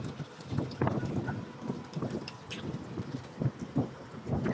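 Strong hot wind in Dubai on a 41-degree summer day buffets the microphone in steady, rumbling gusts, rising and falling in loudness throughout with no talking.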